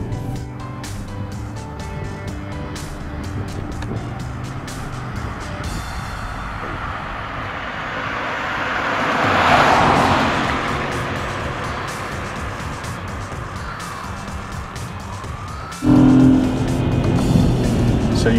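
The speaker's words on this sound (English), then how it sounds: "And now you hear what we are talking about, that if you make the sound in the right way from the 3-cylinder" A BMW prototype's 1.5-liter three-cylinder twin-turbo engine accelerating while driving, a steady engine roar that builds in pitch toward the middle, then a sharp louder shift near the end, with no talking.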